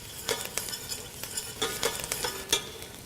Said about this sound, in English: So we've been cooking these onions for about 10 minutes,